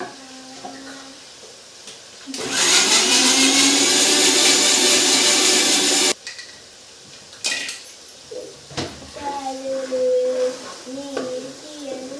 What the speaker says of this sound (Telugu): నేనైతే చేపల కూరలోకి ఇవన్నీ మిక్సీ పడతానండి